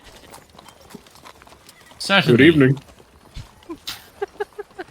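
Horse hooves clip-clop in a steady walking rhythm, faint at first and then a loud, close burst in the middle, with a few separate clops near the end, while people speak briefly over it.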